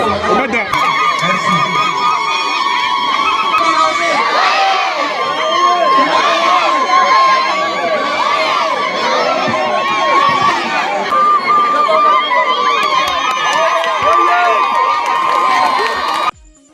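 A large crowd of all ages gathered to welcome an elected official, cheering loudly with children shouting and overlapping voices, a dense, sustained roar that cuts off sharply at the end.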